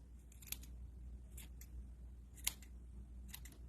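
Scissors trimming the yarn ends of a crochet pompom on a two-tone crochet hat, a few faint crisp snips spaced irregularly over a quiet background.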